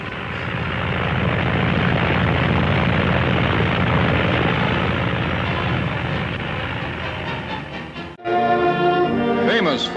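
An aircraft engine drones loudly and steadily on a long-distance test flight, then dips briefly before a propeller-like hum with rising tonal whine returns near the end.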